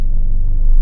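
A Mercedes V8 engine runs close by, giving a loud, deep, steady rumble with a slight pulsing throb and no voices over it.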